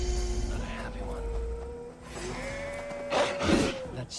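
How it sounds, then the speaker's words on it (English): Sheep bleating in the video game Assassin's Creed Valhalla, a few wavering, distressed cries that rise and fall over a low background rumble, with game ambience throughout. "That sounds like a sheep."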